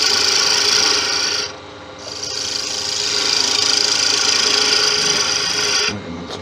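A gouge cuts crossgrain tigerwood spinning on a lathe, making a loud, rough, continuous rasping that eases off briefly twice as the tool lifts and then bites again, close up.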